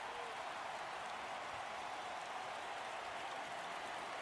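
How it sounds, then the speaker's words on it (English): A football stadium crowd during an NFL game between the San Diego Chargers and the Indianapolis Colts reacts to a replay with a dense, even roar of cheering and noise, distant and sustained with no breaks. "The crowd reacting, getting a good look at that replay"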